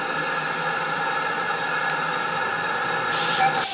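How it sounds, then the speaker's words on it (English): A steam-hauled goods train drifts slowly into the station at Faringdon, giving a steady, continuous hiss over a low engine rumble, with a sharper burst of steam near the end. "the afternoon goods drifts into the station"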